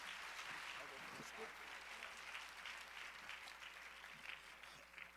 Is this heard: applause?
yes